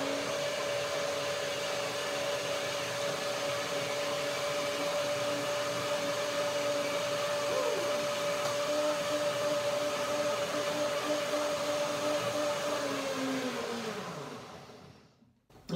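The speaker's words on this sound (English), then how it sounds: "I always blend it one more time to make it more creamy," A blender runs continuously, blending pear persimmon pudding until creamy, a steady close motor whine for about fourteen seconds before spinning down and stopping.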